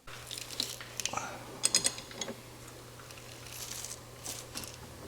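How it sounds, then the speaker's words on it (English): Rear bolts on a lifted Ford Escape being cranked out by hand with a ratchet, giving scattered close metallic clicks and clatter over a steady low hum, with no talking. "we can start working away at cranking those rear bolts out by hand"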